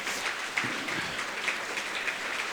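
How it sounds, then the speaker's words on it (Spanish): A church congregation gives a fairly soft offering of applause to the Lord after worship, a steady spread of many hands clapping without talk. "Démosle una ofrenda de palmas al Señor, hermanos."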